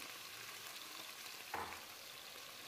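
Lamb meat frying in hot ghee, coarse-chopped pieces sizzling in a pan, a steady moderate hiss with a brief louder stir-like clatter midway, no talking.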